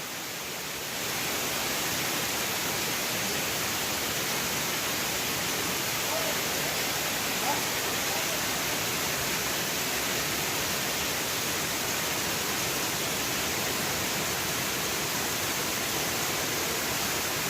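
Lulumahu Falls, a waterfall in Hawaii, roars as a steady broadband rush of falling water, constant and loud from start to finish with no pauses.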